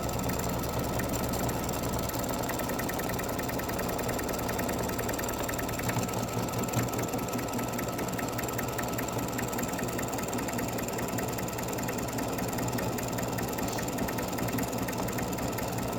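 An embroidery machine stitches a free standing lace seam with a continuous, fast, even mechanical whir and chatter, steady and close throughout.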